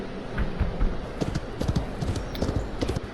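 A racing mare's hooves clip-clop in a quick, uneven rhythm, close by and fairly loud, with some faint background noise and no clear voices.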